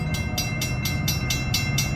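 DeQueen and Eastern Railroad freight train led by GP40-2 locomotives approaching near Broken Bow, Oklahoma, a steady low rumble with a regular beat of wheel clacks, fairly close and continuous, no talking.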